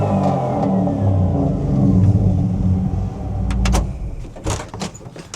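A 1956 Chevrolet Nomad station wagon with an LS3 engine rumbles loudly as it accelerates, a deep engine roar that fades out, followed by a few sharp knocks and clunks.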